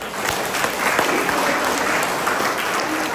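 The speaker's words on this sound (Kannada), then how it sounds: "ಅವರಿಗೆ ಜೋರಾಗಿ ಚಪ್ಪಾಳೆ" An audience breaking into loud, sustained applause, dense clapping held at an even level from start to finish.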